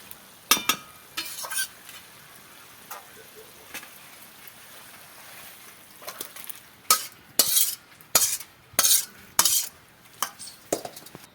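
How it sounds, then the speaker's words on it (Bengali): Cabbage and fish oil curry being stirred in a pan, village style: a spoon scrapes and clatters in bursts, sparse at first and then in a quick rhythmic run of strokes near the end, with no talk. "ভালো করে আমরা একটু মিশিয়ে নেব"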